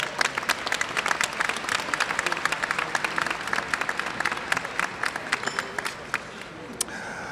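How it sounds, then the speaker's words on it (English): Banquet audience at an NAACP chapter Freedom Fund dinner breaks into steady, dense applause that fills the room, with sharp individual claps standing out near the end. "Can we have a round of applause?"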